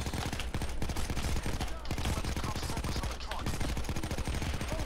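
Rapid automatic gunfire in the video game Payday 2 crackles in dense bursts throughout, loud and nearly continuous with brief gaps.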